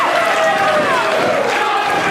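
A wrestling crowd at a CTWE tag team championship 4-way elimination match in Bethany, Connecticut roars loudly and continuously, a dense wash of cheering and shouting voices.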